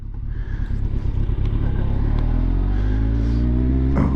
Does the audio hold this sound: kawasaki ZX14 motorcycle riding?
yes